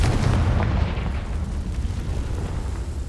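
A Confringo blasting spell going off in Hogwarts Legacy, a heavy rumbling explosive boom at the start that decays into a lingering low roar.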